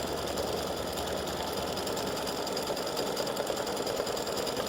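An embroidery machine stitches running stitches on freestanding lace earrings and a pendant, a close, continuous rapid mechanical rattle with an even rhythm throughout.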